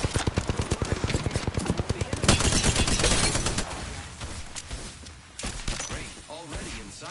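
Gunfire in the Apex Legends video game: a loud, rapid burst of automatic fire followed by more scattered shots and impacts, close and dense, heard with in-game action noise.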